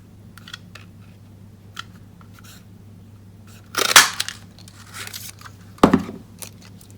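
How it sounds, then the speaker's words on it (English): Paper punched with a Stampin' Up Timeless Label Punch during card making, two sharp crunchy clicks with a brief rustle between them, close and fairly loud against a quiet background hum. "let's punch that out with the Timeless Label Punch"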